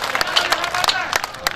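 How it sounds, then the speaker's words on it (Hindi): Rapid, uneven clapping from an audience at a political rally in Chhindwara, a brief burst of many hands striking at once, close and fairly loud. "दोनों हाथ खड़े पर जोर ताली बजाकर मुझे बताएं।"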